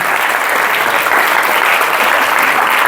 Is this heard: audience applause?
yes